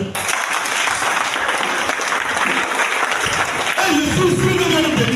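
A church congregation applauds during a Sunday service, sustained dense clapping with crowd noise throughout, and a voice rises over it near the end.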